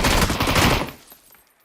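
A rapid burst of automatic gunfire in PUBG, dense cracking shots for under a second, loud and close, then a short fading echo.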